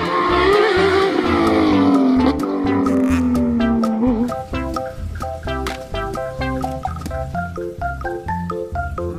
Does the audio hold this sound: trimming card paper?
no